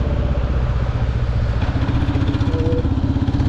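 A motorcycle with alloy wheels fitted in place of spoke wheels rides along, its engine a steady, loud, close throbbing putter with an even rhythmic pulse throughout.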